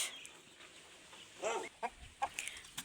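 Household chickens kept in a rural home alongside livestock give a few short, sharp clucks, close by and loud against a quiet background.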